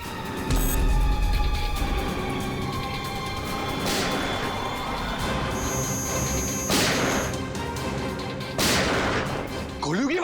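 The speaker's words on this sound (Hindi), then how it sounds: "गोलियों की आवाज।" Gunshot sound effects in a CID crime drama episode: several sharp broadband bursts spread across the clip over a continuous dramatic music bed.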